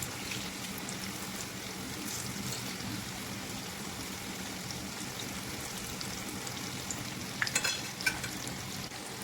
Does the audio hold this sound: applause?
no